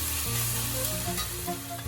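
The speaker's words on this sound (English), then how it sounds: "Saute 2 small onions that's sliced and then some curry leaves" Sliced onions and curry leaves sauté in hot oil for a Kerala-style beef masala, a steady close crackling sizzle with soft stirring throughout and no voices.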